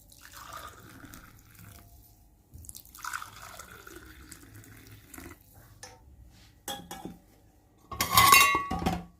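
Organic bulletproof coffee being poured in a kitchen, with soft liquid trickling and dripping, light clinks of cups and cutlery, and a louder splashing pour near the end.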